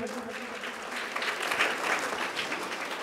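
Schoolchildren in a lecture audience clap together in a steady, dense wash of applause at a Shivaji Jayanti talk, sustained for several seconds at moderate loudness with no voices over it.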